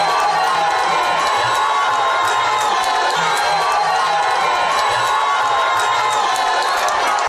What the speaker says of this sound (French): cette foule compacte qui a rempli la salle comme un œuf a accueilli l'autorité morale de la plateforme